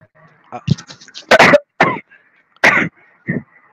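A few short, harsh coughs and throat-clearing bursts, close and loud, spaced out with brief pauses between them.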